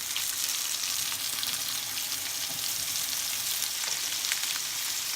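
Goose breasts sizzle steadily in a hot frying pan, a dense continuous crackle of fat with no voices, after being flipped to cook the second side before going into the oven for a goose curry.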